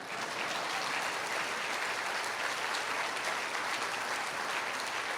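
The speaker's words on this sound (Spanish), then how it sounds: "Denos un aplauso, por favor." Congregation applauding during a Sunday church service, a steady dense wash of clapping throughout at moderate distance, no talk over it.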